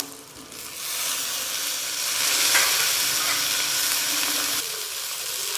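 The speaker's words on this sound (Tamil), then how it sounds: "தக்காளி சேர்த்த உடனே தேவையான அளவு உப்பு சேர்த்துக்கலாம் போட்டு நல்லா வதக்கி விட்டுக்கலாம்" Chopped tomatoes sauté in a hot pan for mint and onion chutney, giving a steady, close sizzle and hiss with soft scraping as they are stirred, growing briefly louder in the middle and easing near the end.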